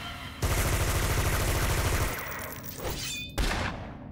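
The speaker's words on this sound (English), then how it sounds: "let's shoot with the ghost gun" A ghost gun fires in the video game City of Villains, played as an Arachnos Soldier, letting out a loud sustained burst of rapid shots, then a lighter stretch and a final sharp blast.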